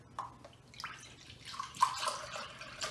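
Water is poured into a kitchen measuring cup: faint, quiet trickling and dripping splashes that come in short bursts and rise toward the end, with no voices.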